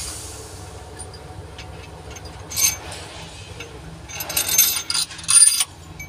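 A ratchet tightens cylinder head bolts on a Perkins engine, a few short bursts of clicking ratcheting close by against a faint low background hum, no voices.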